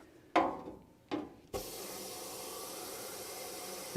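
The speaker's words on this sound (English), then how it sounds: "spray a little brake clean down there." Brake cleaner sprays onto the 383 big-block engine of a 1971 Dodge W100 Sweptline pickup: two short hissing bursts, then a longer continuous spray hiss, close by.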